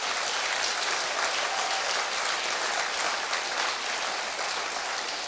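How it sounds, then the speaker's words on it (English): A crowd of runners at a community running event applauds the volunteers with steady, dense, sustained applause, loud and even throughout, without talk. "can we give a round of applause for all the volunteers"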